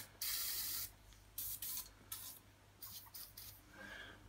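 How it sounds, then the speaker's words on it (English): WD-40 type lubricant sprayed onto the ball bearings of a Babyzen Yoyo stroller wheel in several short, close hissing bursts, the first longest, then quieter puffs, fairly faint overall. "you also then want to be using the WD-40 type spray on the ball bearings"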